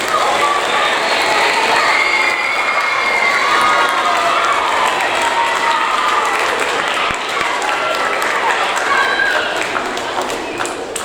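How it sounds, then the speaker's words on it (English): Sustained applause from a school awards-ceremony audience, with some cheering and crowd voices mixed into the steady, dense clapping throughout. "Now I'll give you a round of applause,"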